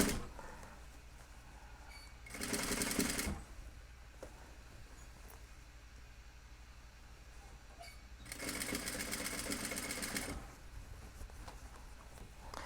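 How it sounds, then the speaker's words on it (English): A sewing machine stitches over the original hem of a pair of jeans in two separate runs of steady, rapid whirring, each lasting about two seconds, with quiet pauses between them and no talking. "I'm just going to stitch over my original stitching when I come back here"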